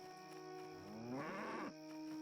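A single cow moo in the Neverwinter Nights video game, a drawn-out lowing call with a rising then falling pitch lasting about a second, heard clearly over a quiet game ambience.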